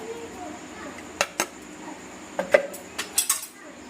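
A spoon beats eggs in a bowl, giving a few light, quick clinks and taps that come close together against a quiet room background.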